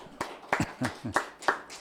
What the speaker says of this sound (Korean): 우리 한번 박수로 한번 격려하면 좋겠습니다